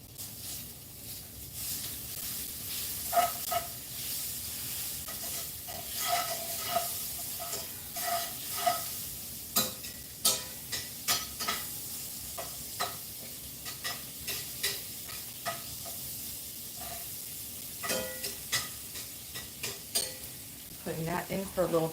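A tablespoon of butter sizzles and hisses in a hot pan for a home-cooked cheesesteak, with a utensil stirring and scraping in repeated soft strokes, steady close sound throughout and no talk.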